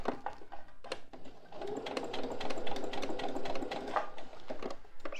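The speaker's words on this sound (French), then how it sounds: "Je me positionne donc pour vraiment coudre dans la rainure." A sewing machine stitches bias binding in a steady, rapid run of needle strokes that continues through most of the passage, close and fairly loud, with a few brief pauses near the start.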